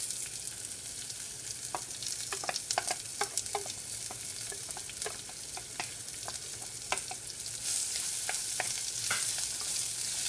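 Onions and fenugreek seeds fry in a pan, a steady sizzle dotted with sharp pops and crackles and occasional stirring, close and unaccompanied by speech.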